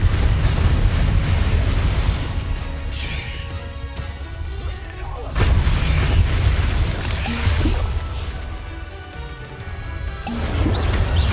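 Confringo blasting-spell explosions in the Hogwarts Legacy game, repeated loud booming crashes with rumbling tails, spaced a few seconds apart amid spell effects and a talking voice.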